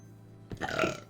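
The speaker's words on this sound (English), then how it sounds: "Had a little bit of a burp there." A single short burp, close and fairly loud, rising out of near silence and trailing off within about half a second.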